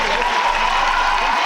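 An arena crowd at the 2007 European figure skating championships, men's free skate, applauds in a dense, steady wash of clapping while a commentator talks over it.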